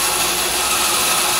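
A large bandsaw with a big table cutting a big wood blank, a loud steady whining roar of blade through wood, constant and close for the whole short stretch.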